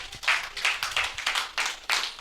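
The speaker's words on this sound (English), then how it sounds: "Round of applause to Anne, guys." Hand clapping from a small audience at a youth club baking workshop, honoring Ann, in steady rhythmic bursts of about eight claps at fairly close range, loud and without talk.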